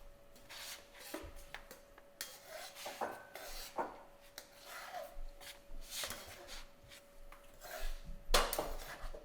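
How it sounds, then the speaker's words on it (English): Pasta being tossed with sauce in a family-style prep bowl, giving soft repeated scraping, rubbing and clinking of utensils against the bowl, close and moderately quiet, with one sharper clatter near the end. "we can toss our pasta"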